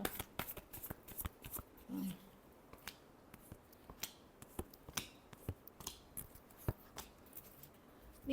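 Tarot cards being shuffled by hand in quiet surroundings, a series of crisp, brief riffles and slaps at an irregular rhythm, close and soft.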